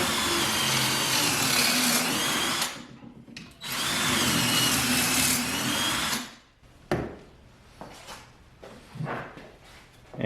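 A power drill bores angled pocket holes through a Kreg jig drill guide, two loud sustained whirring bursts of drilling, the second ending near six seconds, followed by quieter clicks and handling noises.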